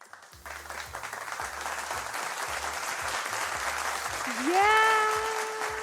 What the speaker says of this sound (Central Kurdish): تەواو چەپڵەکانتان بۆ لیازانی